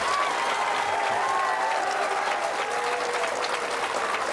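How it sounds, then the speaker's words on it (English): Steady applause from an audience honoring four students at a live science event, sustained and even throughout with no voices standing out. "Please, one more big round of applause for these 4."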